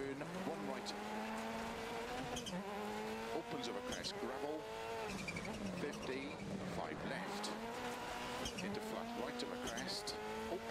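A rally car in DiRT Rally 2.0 drives hard in Poland, its engine note rising and falling steadily through gear changes with tire noise over a gravel surface, while a person talks over it.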